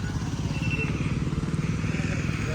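A motorcycle engine with a fault runs rough at close range, its low pulsing beat slightly uneven and sputtering throughout the short stretch.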